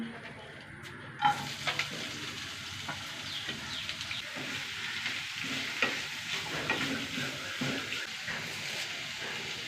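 Finely sliced onions frying in coconut oil with curry leaves, giving a continuous close sizzle with occasional stirring clatter after a brief sharp knock near the start.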